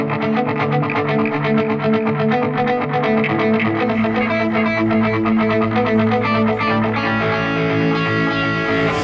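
An electric guitar, the Tom DeLonge signature Starcaster, plays alone in an empty concert venue during a soundcheck. Sustained, layered chords run through distortion, chorus and echo effects, loud and continuous with no voices.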